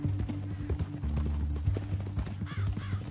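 Horse hooves clip-clop on the ground in the Red Dead Redemption 2 video game, a quick uneven rhythm of close thuds over a low game soundtrack drone, with a brief whinny-like sound near the end.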